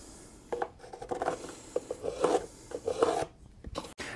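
Short scratchy strokes of a pencil or scribe drawn along a wooden panel, several brief rasps close by in a quiet room, no talking.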